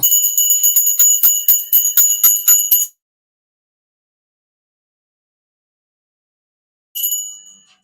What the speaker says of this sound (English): We're ringing bells today